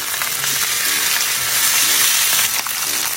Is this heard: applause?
no